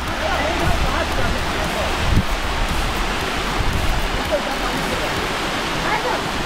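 A small waterfall at Yelagiri Hills gives a steady, loud rush of falling water that fills the whole scene, with no clear breaks.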